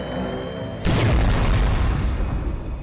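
Homing shots fire in a Skibidi Toilet animated battle, starting with a sudden heavy boom that swells into a loud, rumbling roar. It lasts a couple of seconds and stays dense with no speech.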